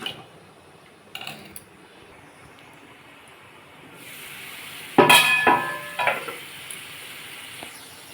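Potato pieces frying in oil in a pan for a vegetarian potato and pointed gourd curry, a low steady sizzle that swells into louder crackling bursts partway through, with clinks of a utensil.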